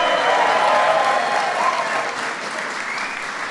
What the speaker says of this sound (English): His wife, Fanula, give her a bigger round of applause.